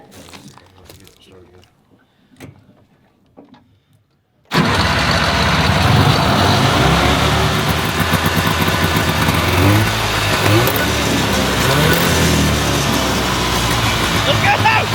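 A small tracked mini tank engine starts after quiet talk and settles into a loud, steady, rumbling high idle close by, running continuously with people talking over it.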